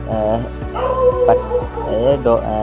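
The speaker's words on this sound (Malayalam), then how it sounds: "എൻ്റെ വീട്ടിലെ പട്ടി തന്നെയാണ്. സോ അത് കുരയ്ക്കണതാണ്." A dog barks and yips several times in quick succession, close and loud, with whiny pitched tones between barks.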